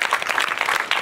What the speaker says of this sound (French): On applaudit très fort là